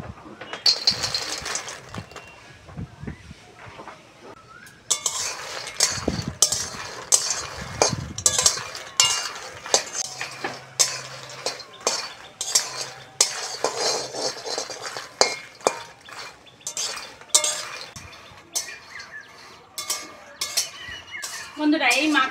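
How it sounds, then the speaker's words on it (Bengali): Makhana (fox nuts) dry-roasting in a hot, oil-free wok, with a dense run of light clinks, rattles and spoon scrapes against metal as the puffed seeds are tossed and stirred, close and busy with no talking. "এবার মাখানাটা আমি শুকনো খোলায় ভেজে নেব।"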